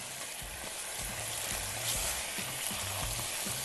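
Spinach sizzles steadily in a hot pan while a spoon stirs it with soft, repeated scraping, close and moderately loud throughout.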